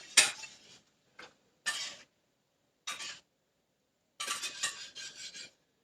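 A metal whisk stirs thickening tembleque coconut pudding in a pot, giving scraping, rasping bursts in uneven strokes with short pauses, ending in a longer run of fast scrapes; close and fairly quiet.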